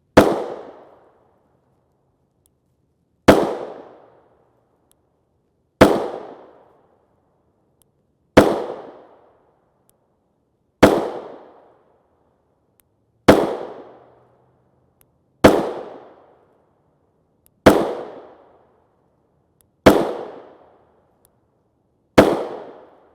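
Ten 9mm 124-grain FMJ shots ring out from a Springfield Hellcat pistol with a 3-inch barrel, each a sharp, loud crack with a short decaying tail, fired singly at a slow, even pace of roughly one every two and a half seconds.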